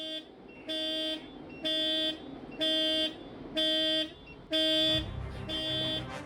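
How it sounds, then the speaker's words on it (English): Automatic shutoff alarm on Germany's most powerful mega crane sounds as six loud, evenly spaced electronic horn blasts of about a second each, with a low rumble near the end. "The automatic shutoff of the most powerful crane in service in Germany has been triggered."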